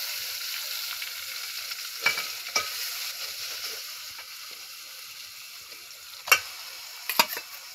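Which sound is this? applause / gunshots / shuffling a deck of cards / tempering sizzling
tempering sizzling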